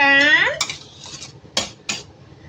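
A spoon works through vegetable stew with blinjo and tempeh in a pot, clinking and scraping against the metal in a few distinct knocks after an opening tonal sound. The stirring is close and fairly loud.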